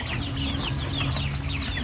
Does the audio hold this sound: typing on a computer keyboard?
no